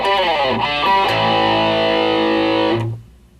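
A heavily distorted electric guitar strums only the 2nd and 3rd strings in one long sustained ring, fuzzy and loud, before cutting off abruptly.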